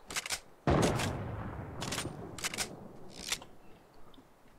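Rapid bursts of gunfire in the Fortnite video game, several sharp cracks and a loud blast at mid-clip, with a rumbling tail and further scattered shots spaced unevenly across the few seconds.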